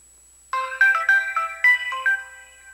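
A mobile phone ringtone plays a bright, repeating electronic melody of short tonal notes, loud and close, starting abruptly after a moment of silence.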